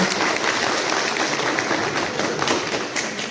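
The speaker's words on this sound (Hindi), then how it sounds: "जोरदार ताली के साथ।" Loud applause fills an assembly hall at a block development office meeting, a dense steady clapping that holds for the whole stretch with no pauses.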